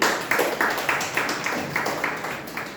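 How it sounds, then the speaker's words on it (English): A club meeting audience applauds in a steady patter of claps, with many hands hitting together in a moderately close room. "Can we give a round of applause from our speaker?"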